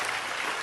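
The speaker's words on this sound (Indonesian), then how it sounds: "saya ingin Anda tepuk tangan untuk yang menciptakan judul itu." Dense applause from a large audience at an Indonesian lecture-and-music gathering, a brief, loud, continuous wash of clapping.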